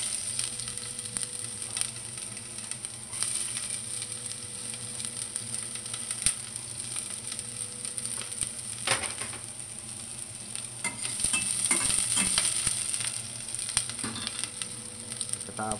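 Onion frying in a pan, a steady close sizzle with intermittent scraping strokes of stirring that grow busier partway through, moderately loud and continuous.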